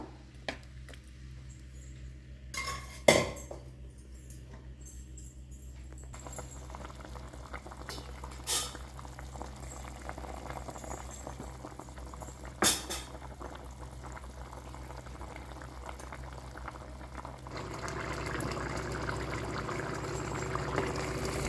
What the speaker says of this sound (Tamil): நல்லா கொதிச்சு வரட்டும்